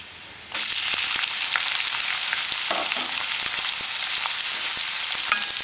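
Chopped onion hitting hot oil with cumin seeds in a pan, a sudden loud sizzle that bursts in after a brief quiet moment and then holds as a dense, steady frying hiss, close up with a few faint clinks.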